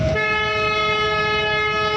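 One sustained, loud, tonal horn blast sounds close by for the full two seconds, steady and unbroken after a sharp onset.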